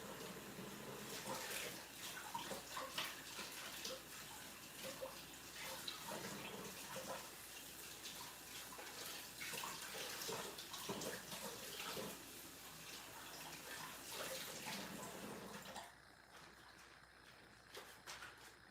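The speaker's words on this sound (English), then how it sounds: "I'm going to rinse it." Running tap water pours steadily into a sink while produce from a tomato and pepper preserving session is rinsed, a continuous close gush that stops abruptly near the end, leaving quiet room tone.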